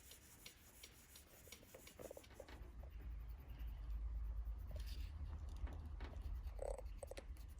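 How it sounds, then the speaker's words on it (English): Hand sanding of paint chip repairs on a car body, a steady soft rasping rub that builds in loudness and runs continuously, with a few faint clicks over a low background rumble. "sitting here sanding."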